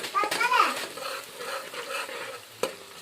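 Tomato stirred into hot oil in a curry pan, a soft sizzle with spoon scraping and a brief clink, with faint voices in the background.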